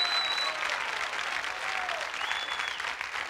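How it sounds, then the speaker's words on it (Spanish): Sustained audience applause at a comedy show, a dense continuous clatter of many hands clapping at moderate distance, steady throughout with faint crowd voices mixed in. "¡Fuerte el aplauso!"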